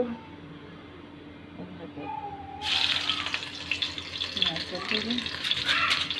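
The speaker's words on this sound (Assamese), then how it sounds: "এয়া চব্জি বনাব লৈছোঁ মই এইফালে শুকান মাছ ভোল আলু" Vegetable curry with dried fish and potatoes cooking: quiet at first, then a loud, sustained frying hiss with splashy, watery crackle that keeps going, while a voice talks nearby.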